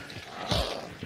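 Dogs in a kennel whimper and growl faintly in the game Hunt: Showdown, with a low rumbling yelp in the middle and a brief whine near the end.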